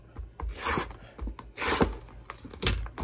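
A foil hanger pack of 2023 Donruss Optic basketball cards is ripped open up close, with a few bursts of crinkly tearing and rustling separated by brief pauses.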